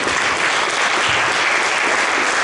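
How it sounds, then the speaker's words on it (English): Dense, steady audience applause at a summit fills the whole stretch, a loud continuous wash of many hands clapping with no voices standing out. "give them a round of applause for finishing their work"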